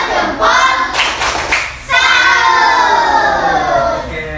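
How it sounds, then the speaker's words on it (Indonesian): A primary school class performs the rhythmic 'tepuk salut' clap, loud bursts of hand claps mixed with children's excited shouting and chanting voices close by. "kita tepuk salut untuk semua yang sudah rapi"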